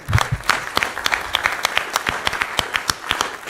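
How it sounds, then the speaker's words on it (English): An audience claps for Dr. Tony Baker, a candidate for the 18th District of Kent County government, in a close, lively burst of separate hand claps that runs unbroken to the end. "So we'd like to give him a big round of applause."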